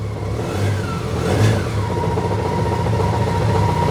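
A BMW K-series motorcycle engine, a K75/100/1100-type bike, idles close by and is revved once, rising to a brief peak before settling back to a steady running hum.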